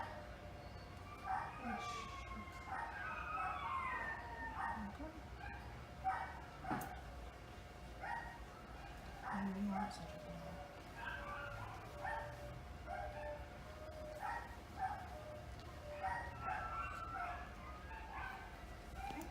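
A dog whines and yips in short, faint bursts while a vet team draws its blood, over a steady low room hum.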